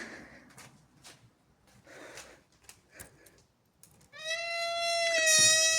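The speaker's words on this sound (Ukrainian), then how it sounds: "Чуєте, як двері скриплять?" Door creaking in an abandoned dormitory room, several scrapes and knocks followed by a loud, drawn-out tonal creak that rises and holds near the end, with no voices.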